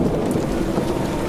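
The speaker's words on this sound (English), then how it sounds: "So God sent a storm into the sea all around Jonah's ship." A thunderstorm at sea rumbles as a dense, continuous roar of heavy rain and wind, loud and steady with no voices.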